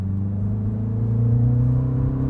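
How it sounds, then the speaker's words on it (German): MINI Cooper S F66 petrol car from 2024 accelerating while steering into a curve, a close, steady engine drone that rises gradually in pitch, heard alone without speech. "Auch wenn ich jetzt zum Beispiel hier mal langsamer fahre vor der Kurve und dann beschleunige und einlenke gleichzeitig"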